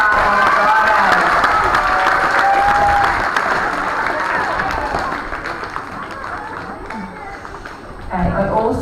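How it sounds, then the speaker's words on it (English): Children and staff at a primary school assembly clap and cheer for students receiving writing awards, loud mixed applause with excited young voices that gradually thins out and then swells briefly again near the end. "So can we give those people a round of applause?"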